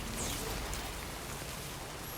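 Steady rain pours in the video game Death Stranding 2, a dense, even hiss of falling water that holds constant throughout with no voices.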